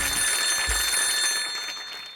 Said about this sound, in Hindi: संतोष, संतोष, अगर माँ का दूध पिया तो फोन उठा